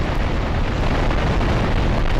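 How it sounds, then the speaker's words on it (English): A dense, continuous rumbling roar of explosions in Grand Theft Auto III fills the clip, loud and unbroken, like a barrage blending into one booming wall of noise. "this series of explosions."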